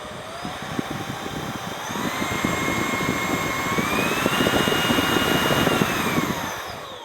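A Prettycare V3 cordless vacuum cleaner runs at its third, highest suction speed, giving a steady, loud whine and rushing airflow. The motor pitch rises as it ramps up, holds for a few seconds, then eases slightly.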